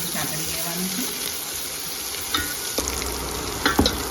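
Finely chopped green chillies and onion sauté in a hot pan with a soft, steady sizzle, and a few scrapes and clinks of stirring come through near the end.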